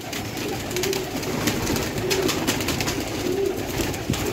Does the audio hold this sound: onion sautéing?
no